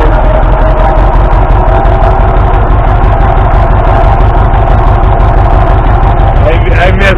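An International diesel tractor engine running on gas for starting, misfiring from a bad spark plug, chugs loudly and close up with a steady pulsing beat throughout, and no voices are heard.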